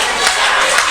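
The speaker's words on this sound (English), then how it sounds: "Doug Williams getting this crowd behind him." Wrestling match crowd at an independent show, loud steady roar of cheering and clapping throughout, dense and continuous with no voices standing out.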